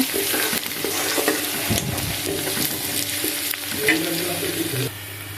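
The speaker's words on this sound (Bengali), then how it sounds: "কড়াইয়ে আমি পেঁয়াজ কুচি আর এলাচ দারচিনি লঙ্কা দিয়ে ভেজে নিচ্ছি" Chopped onion frying in a wok with cardamom, cinnamon and chili, giving a steady close sizzle broken by irregular scraping stir strokes, alone with no voices.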